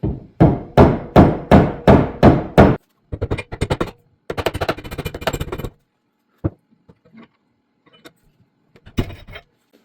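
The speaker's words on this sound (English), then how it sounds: "I'm just going to tap it with a screwdriver and try not to mess any of my powder coat up." A screwdriver taps a part off a Honda ATC70 build: a quick run of about eight sharp metallic knocks in steady rhythm, followed by clusters of faster rattling taps and a few scattered single clicks, close and loud with no talk.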